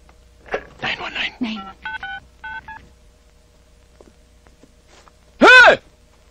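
Telephone keypad tones dial a short run of quick beeps right after a burst of talk in a Filipino comedy film, as a call to the police is placed. A loud sweeping electronic tone follows near the end.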